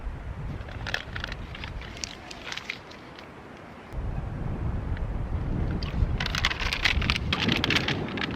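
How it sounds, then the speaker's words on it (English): Wind blowing hard at a lakeside backpacking camp, a loud buffeting rush against the microphone that dips briefly, then surges back stronger with gusty rumble and rattling, with no talk. "I thought it would be less windy right here, but everything's blowing all over the place"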